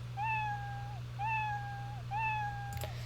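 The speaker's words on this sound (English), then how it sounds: "if it touches your mouse pointer, it meows" A cat meow sound effect plays three times in a Scratch project, evenly spaced and clear over a steady low electrical hum, with no talking.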